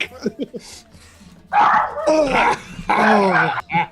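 A dog yelps and whimpers in short, pained bursts in a video game, loud and close, followed by longer strained cries.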